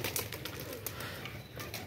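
A pigeon takes off and flies away, its wings flapping in a quick series of soft, faint beats amid light outdoor background noise.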